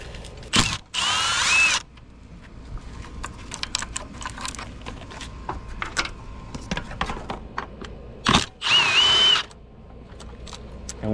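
Power tool work on a 2014 Dodge Charger front end, unbolting sensors and the upper support: two loud bursts of a drill or impact driver near the start and near the end, with clicks, ratchet sounds and handling noises between.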